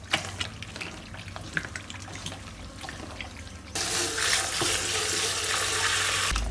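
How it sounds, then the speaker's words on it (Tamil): Goat intestines being kneaded and washed by hand under running tap water, with wet squelching and splashes that give way halfway through to a steady, louder gush of flowing water. "இந்த மாதிரி 2 கையும் வச்சு நல்லா பிசைஞ்சு இந்த மாதிரி கழுவிக்கலாம்"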